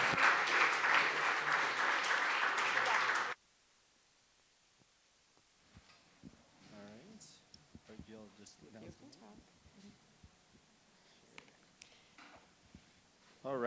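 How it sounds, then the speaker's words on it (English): Audience applause at a local chamber of commerce networking event, loud and dense for about three seconds, then stopping abruptly as quieter room chatter and scattered talk follow. "Let's give you a round of applause"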